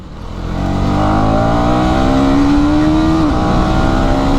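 A Yamaha R15 motorcycle with a quick shifter revs hard up close, its engine note climbing steadily for about three seconds before dropping off. A loud, continuous drone runs throughout.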